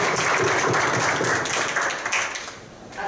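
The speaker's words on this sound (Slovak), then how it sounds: "myslím, že si to zaslúži aj potlesk, preto som vás chcela rozplieskať" Dense, sustained audience applause at a memorandum event, with steady overlapping clapping filling the room that eases slightly toward the end.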